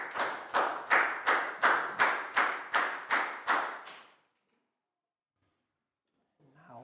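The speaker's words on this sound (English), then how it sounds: "Big round of applause for Pong too" A primary classroom claps in unison for a pupil, about ten evenly spaced, loud group claps over four seconds, then silence before a voice begins.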